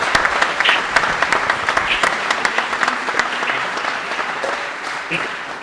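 Audience at a city's State of the City address applauds steadily, a dense crackle of many hands clapping that stays even and fairly loud before tapering slightly at the end.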